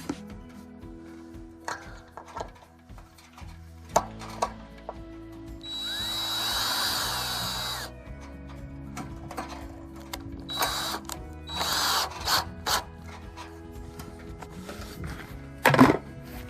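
A screw being driven by hand into cedar wood for a chicken run frame, with sparse clicks and ratcheting turns, one longer grinding burst partway through and scattered sharp knocks, close and fairly loud.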